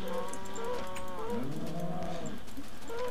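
A Minecraft cow lets out a long, drawn-out moo over steady game background noise, with a second lower moo sweeping after it, clear and close.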